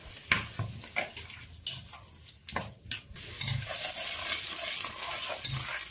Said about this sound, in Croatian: pržimo ga još samo par minuta